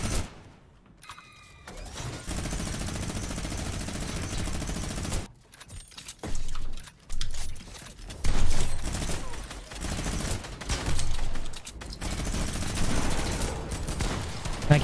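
Rapid automatic gunfire from a minigun in an online arena shooter game, loud sustained bursts with brief gaps over roughly fifteen seconds, mixed with other game effects and some talking.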